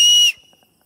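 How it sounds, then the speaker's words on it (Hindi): A piercing, very loud whistle blast held steady for about a third of a second, then cut off abruptly into near silence. "गंदा वाला सीटी कसम से यार, मतलब कान फट जाएगा मेरा"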